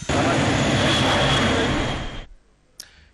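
An airplane carrying a head of government roars with a loud, steady engine drone for about two seconds, then cuts out abruptly, followed by near silence and a brief faint sound.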